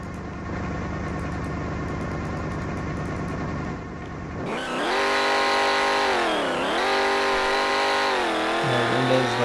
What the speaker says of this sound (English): There it is, the famous Demon wheelie